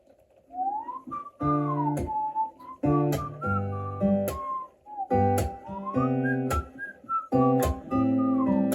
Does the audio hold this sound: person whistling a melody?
yes